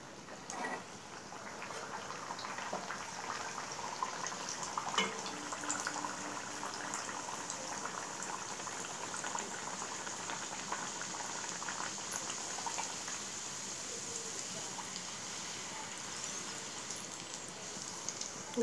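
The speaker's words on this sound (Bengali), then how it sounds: "এবার আমি এটা তেলের মধ্যে ভেজে নিচ্ছি।" Dal puri frying in hot oil on a gas stove gives a continuous faint, even bubbling hiss with light crackle, steady throughout, with no voices.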